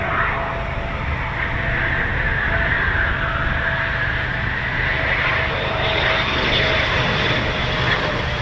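A Eurofighter Typhoon FGR4 jet lands at RAF Coningsby, its engines producing a loud, continuous whine and roar that shifts in pitch as it passes close by.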